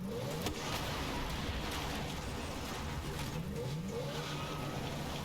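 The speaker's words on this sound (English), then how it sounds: "We've also got cars coming in." Cars approaching in a war-torn shooter game, a steady, faint mid-pitched engine drone with rising revs, continuous throughout with no clear gaps or voices.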